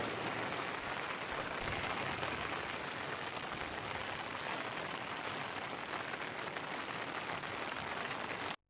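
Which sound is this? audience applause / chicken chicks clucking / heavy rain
heavy rain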